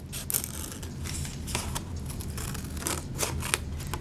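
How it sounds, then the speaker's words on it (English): Scissors snip through paper in a run of short, crisp cuts with an irregular rhythm, close and fairly quiet, no talking. "So go ahead and cut everything out using some scissors."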